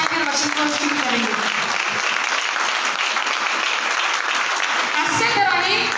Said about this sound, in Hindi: आओ यीशु मसीह के लिए ताली बजाकर वचन को शुरू करेंगे